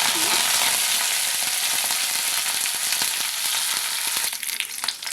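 Curry leaves fry in hot oil with a dense, loud crackling sizzle and scattered pops. Near the end, stirring scrapes and clatters break the hiss.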